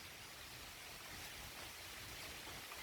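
A wind and rain storm blows in with steady broadband rushing and hiss, like gusting wind and falling rain, continuous and fairly even throughout with no talk.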